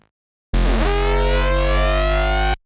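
A growl bass synth patch built in Phase Plant blasts in after a half-second of silence, a loud, dense, buzzing tone with sweeping, shifting harmonics that holds for about two seconds before cutting off.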